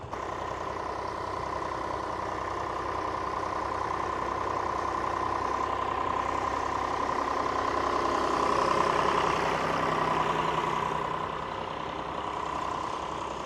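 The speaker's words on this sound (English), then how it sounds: "A lovely restored McCormick International B414 diesel" A restored McCormick International B414 diesel tractor runs at a steady idle with a constant, close, even rumble that holds level throughout, no voices over it, at a match ploughing event.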